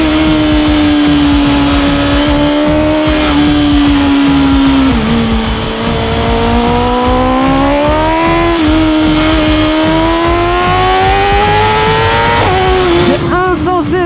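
A BMW M1000RR motorcycle accelerating hard at high speed on the road, its engine whining steadily upward through the gears with brief dips at each shift, loud and close with heavy wind rush.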